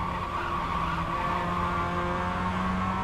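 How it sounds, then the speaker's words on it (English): A racing car understeers and slides through a corner in a racing video game, with steady loud engine drone and continuous tire scrub throughout, no voices. "Bit of understeer there and a slide."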